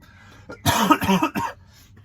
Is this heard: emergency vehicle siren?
no